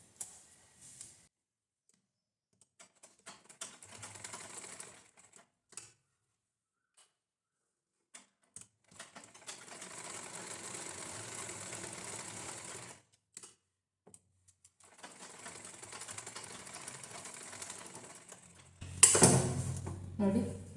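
A sewing machine runs in three separate bursts of rapid mechanical ticking as it stitches around the folded lining of a blouse, quiet pauses in between, ending on a louder handling thump.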